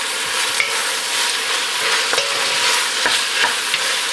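Onion and lentils sizzle in a pot with ham while being stirred, a close, bright frying hiss broken by brief scraping clicks of the spoon against the pot.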